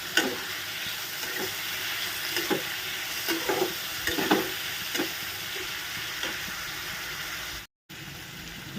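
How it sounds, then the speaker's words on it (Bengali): Potatoes and onions frying together with turmeric in a pan give a steady close sizzle, with soft intermittent scrapes and clacks of stirring, briefly cut off near the end. "দিয়ে একসঙ্গে আলুও ভাজা হবে"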